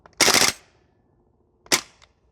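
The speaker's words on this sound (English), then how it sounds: "shooting full auto" A Maruyama SCP-9 gas blowback airsoft submachine gun fires on full auto at a shooting range: a quick rattling burst, then a short pause and a second, briefer burst.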